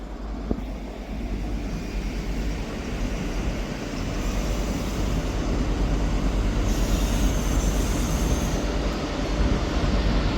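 A ScotRail diesel train from Edinburgh Waverley to Aberdeen pulls into Dundee station, a steady rumbling engine and rolling wheels building gradually, with a faint squeal toward the end.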